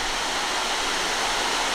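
An off-trail waterfall and creek run with strong flow, a loud, close, continuous rushing roar of falling and churning water, steady throughout with no voices.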